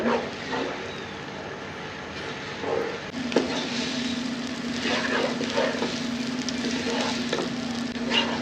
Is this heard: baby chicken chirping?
no